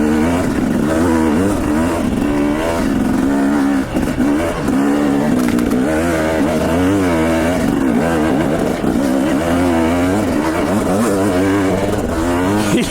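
250XC dirt bike engine revving continuously and loudly up close, the pitch rising and falling in rapid wavering sweeps as the throttle works, with no voices.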